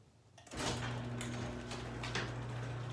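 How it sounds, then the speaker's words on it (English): A garage door opener, triggered by flashing the high beam on a Harley-Davidson, starts with a thunk and a steady motor drone as the door rolls upward, loud and continuous. "up goes the garage door."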